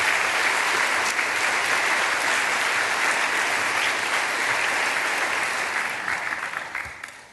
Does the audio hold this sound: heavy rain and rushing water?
no